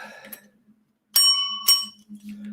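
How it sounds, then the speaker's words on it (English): Two bright metallic dings from a small bell, ringing close and clear about half a second apart, each with a short shimmering decay. "Have you seen my bell? My little bell?"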